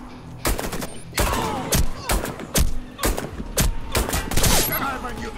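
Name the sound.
gunfire in the video game Warface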